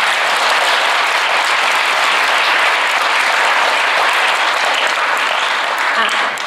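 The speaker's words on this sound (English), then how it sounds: "give all of our accompanists a big round of applause" Loud, sustained applause from a school concert audience for the accompanists of a Grade 8 choir, a dense wash of many hands clapping steadily for several seconds.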